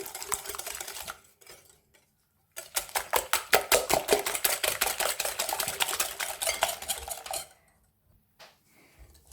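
A whisk beats a sugar mixture in a bowl for a clafoutis batter, giving a fast, rhythmic clatter of metal against the bowl for several seconds, close and alone.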